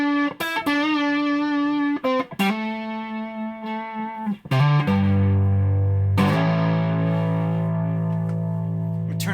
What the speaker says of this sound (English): If we put a tube screamer on